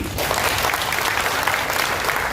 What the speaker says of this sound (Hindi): एक बार खड़े हो जाइए और जोरदार ताली बजाइए